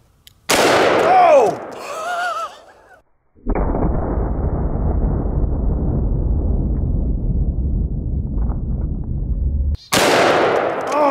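A .44 snubnose revolver fires a 240-grain Underwood jacketed hollow point into buckets of slime: one loud, sharp report with a long decaying roar, someone speaking before it and a second blast right at the end.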